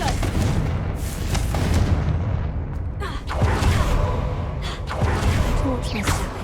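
Booming fiery blasts from the Confringo spell in Hogwarts Legacy, loud rumbling bursts following one another with short sharp cracks between them, close and heavy.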